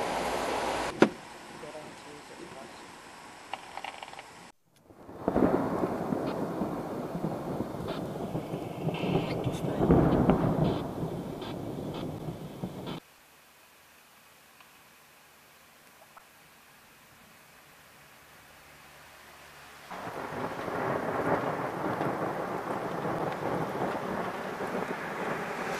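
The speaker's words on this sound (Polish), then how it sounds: "Piorun." Thunder rolling through a late-summer storm with rain in south-eastern Poland, a loud rumbling stretch that fades to near quiet before steady rain-like noise returns, with voices speaking at times.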